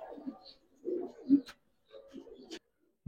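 Giribaz khaki and silver pigeons coo in a loft, a few close, low bursts separated by brief quiet pauses.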